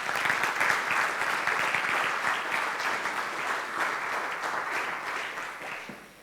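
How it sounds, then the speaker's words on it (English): An audience at the Drawing of the Year 2016 architecture awards applauds, a dense, loud, sustained round of clapping that tapers slightly toward the end. "let's give an applause to Michael Minghetti."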